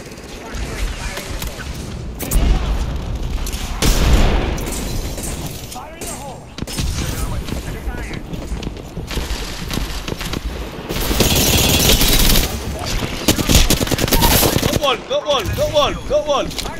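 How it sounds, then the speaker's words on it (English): Apex Legends firefight with repeated bursts of automatic gunfire and sharp single shots, loud and close, coming in clusters separated by brief lulls while players talk over the action. "Shots fired, and they're hitting me."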